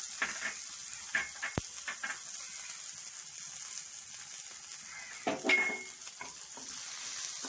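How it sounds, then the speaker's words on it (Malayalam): Chopped garlic and green chillies sautéing in a pan, a faint hiss broken by a few light stirring scrapes and clinks, quiet and close, with no voices. "ഇതൊന്ന് വഴറ്റി കൊടുക്കാം."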